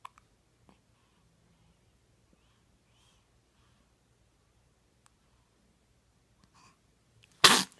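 A baby's sneeze bursts out near the end, loud and close after a few seconds of near silence broken by tiny soft clicks, heard during a 4 a.m. feeding right after the baby's first hiccups.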